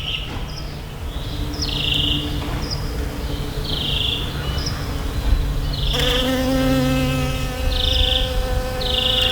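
A bee buzzes close by in steady, continuous drones that rise and fall as it moves, with faint bird calls in the background and no talking.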